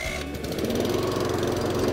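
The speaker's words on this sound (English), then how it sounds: "because this is a new engine, it's not been started before, sometimes it just takes a second or two to turn over" A new MX484SPCE lawn mower engine catches and runs, settling quickly into a loud, steady, close-up chugging drone with a fast regular engine rhythm and no talk over it.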